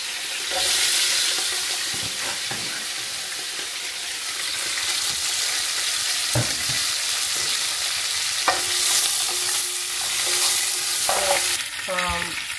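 Chillies and onions frying in a pan with whole spices such as cinnamon and bay leaves: a steady sizzle runs throughout, with occasional spoon scrapes and clinks standing out near and alone.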